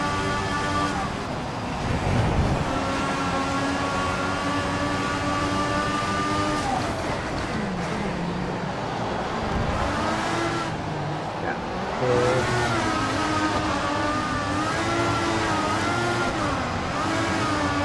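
An F1 car engine from the game F1 2014 screams at high revs on a straight, its whining tone climbing and shifting through gears, loud and continuous with brief dips between pulls.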